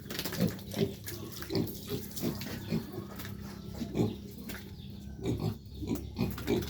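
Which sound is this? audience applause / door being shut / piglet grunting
piglet grunting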